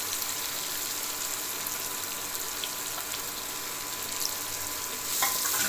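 Steady, dense sizzling of onions sautéing in hot oil, continuous and close, with a brief stir or clatter near the end.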